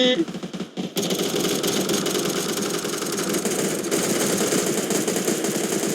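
Loud, rapid automatic gunfire in PUBG blasts continuously after a brief quieter moment at the start, a dense, relentless stream of shots.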